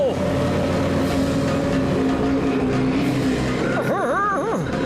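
A cartoon boat engine hums steadily and fairly loud throughout, with a voice briefly heard near the end over the drone.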